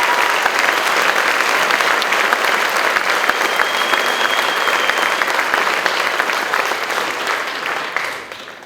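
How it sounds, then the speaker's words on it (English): Loud, steady applause from a crowd at a high school honors scholarship awards ceremony, dense clapping holding evenly for about eight seconds before fading away at the end. "would you join me in a round of applause for all teacher and faculty once again?"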